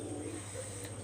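A Teddy Golden Kamagar pigeon gives a soft, low, steady coo, faint and close against a quiet indoor background.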